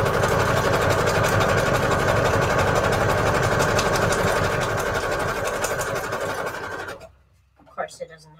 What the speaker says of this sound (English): I really prefer to use my sewing machine